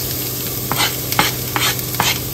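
Garlic and onion sauté in a hot pan with a loud, continuous sizzle. Several quick stirring scrapes punctuate the frying.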